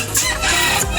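Native chickens kept in a rooftop garden farm cluck loudly and close by in a brief, dense burst of overlapping calls.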